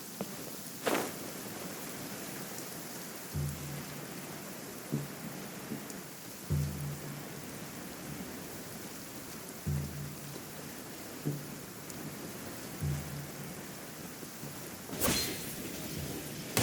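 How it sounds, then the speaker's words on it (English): Steady rain hisses throughout a stormy scene in the video game Genshin Impact, broken by several low rumbling thunder rolls and two sharp, bright thunder cracks near the start and end. "It always rains when I go on an adventure."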